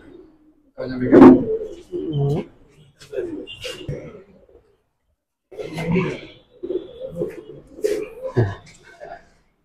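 Soft cooing of pigeons close by, in short bursts with pauses, mixed with scattered bird sounds and some nearby voices.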